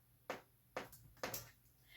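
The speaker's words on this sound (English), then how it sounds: "I used the sound of my metronome, which sounds like this" A metronome ticks three times at an even tempo, each click sharp, faint and isolated against a quiet background.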